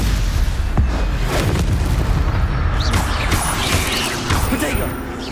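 A Stupefy spell is cast in Hogwarts Legacy, producing a loud booming blast with crackling magical impacts over a dense, noisy battle, with a voice calling out over it.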